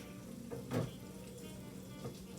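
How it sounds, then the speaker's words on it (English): Ingredients for a homemade Marsala sauce sauté in a pan with a soft, steady sizzle, faint and fairly distant, broken by a couple of brief clinks or stirs and no speech. "I'm gonna let this saute down really good."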